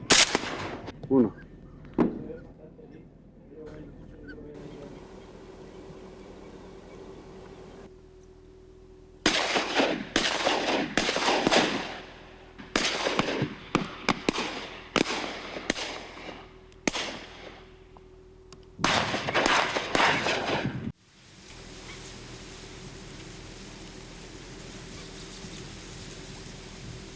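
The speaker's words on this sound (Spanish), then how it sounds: "Por la mañana, tras los primeros disparos, los patos vuelven a su lugar de reposo" Sharp, sudden duck-hunting gunshots crack out at dawn in scattered bursts, some distant and some closer, separated by quiet stretches of faint background hiss.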